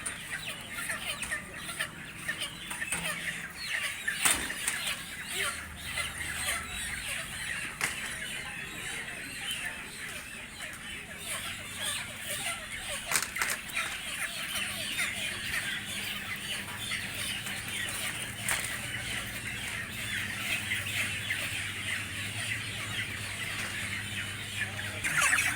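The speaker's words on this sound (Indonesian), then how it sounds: "cara membongkar ayam" Chickens unloaded from a truck cluck and squawk continuously as a crowded flock, with occasional sharp thuds and bangs of handling and faint voices in the background.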